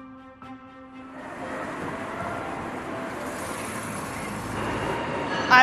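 A train's rising rumble and rushing roar builds and holds steady, a Chinese Fuxing high-speed bullet train gathering speed with a broad whooshing wash of noise.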